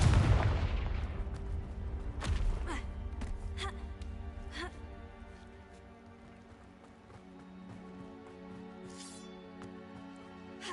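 In Hogwarts Legacy, a fiery Confringo spell blast lands with a loud booming burst at the start. Several sharp crackling impacts follow over sustained orchestral game music, fading to a quieter tail.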